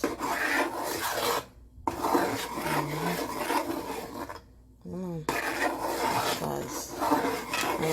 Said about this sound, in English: have to stir it for to get the little thickness now